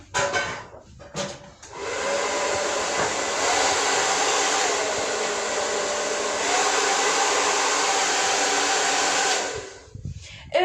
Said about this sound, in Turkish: Evet fön makinemizi açalım.